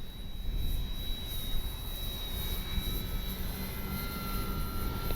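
A Durafly Tundra V3 RC bush plane flies in wind, its steady motor whine blending with strong, continuous wind buffeting that dominates the sound throughout.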